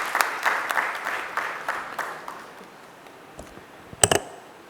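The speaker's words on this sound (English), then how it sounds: "Please welcome with a round of applause." Audience applause at a lecture event, a burst of dense clapping that fades over a few seconds, followed near the end by a couple of sharp, louder claps or taps close by.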